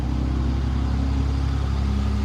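A loud pickup truck engine rumbles with a deep, steady idle and a slight rise in revs, sounding close by as it drives off.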